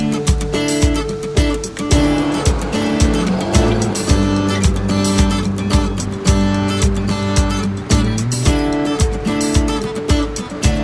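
A Porsche Cayenne S Hybrid's engine revs loudly and steadily as the vehicle drives, with a strong rhythmic growl that rises and falls throughout. No speech can be heard over the engine.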